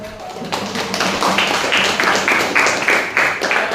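Students in a classroom clap briefly, with a sharp burst of close hand claps that start after a short pause and continue in uneven pulses.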